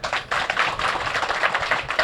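A crowd applauds steadily throughout, many hands clapping in a dense, continuous patter at close range with no pauses.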